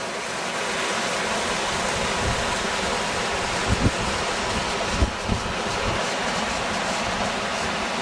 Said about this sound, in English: catches this little valley and waterfall coming down to the lot